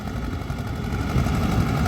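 Tractor ploughing a wet autumn field with wheel slip, giving a steady, loud low engine drone with rough, chugging texture throughout and no voices.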